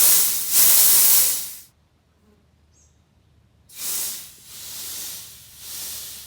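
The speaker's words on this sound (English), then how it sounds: "I can hear the air come out of there a lot" Air hisses out of the transmission cooler on a 1992 Mustang GT: a loud, close, broadband hiss that stops for about two seconds, then comes back in pulsing bursts.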